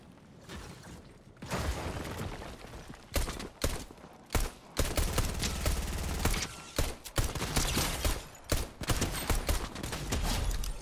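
Dual pistols fire in a video game as rapid bursts of sharp gunshots, with mechanical clicks and reload sounds between loud volleys, up close and with no talk.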